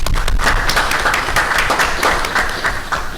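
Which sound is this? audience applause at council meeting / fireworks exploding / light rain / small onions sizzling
audience applause at council meeting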